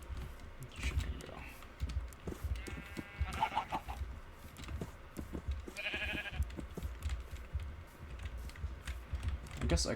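Sheep bleat in a Minecraft farm setting, a few short blocky calls over steady keyboard typing and game noise, with a voice talking throughout.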